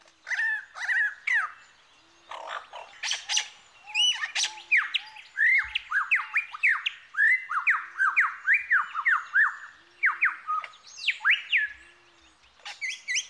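An Australian mimic bird runs through a rapid medley of varied imitated calls, squawks, chirps and whistles, merged one after another, loud and close, with brief pauses between bursts.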